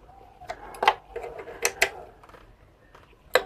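Bolts are tightened on the mudguard of a Honda Shine BS6 motorcycle, giving a series of sharp, irregular metallic clicks and ratcheting ticks, close and moderately loud, with quiet stretches between them.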